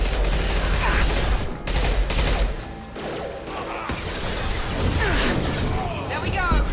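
Mass Effect 2 combat plays out in loud, dense bursts of automatic gunfire and booming impacts, sustained almost throughout, with voices talking over it.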